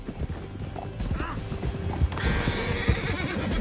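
Horse hooves clip-clop steadily in a Red Dead Redemption 2 scene, joined by a brief whinny and mechanical rattling, with light background noise throughout.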